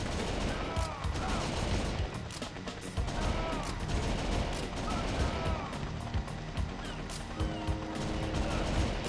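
Continuous rapid gunfire from a light gun arcade shooter, dense, loud bursts overlapping with crashes and game effects throughout, with a voice briefly calling out amid the shooting.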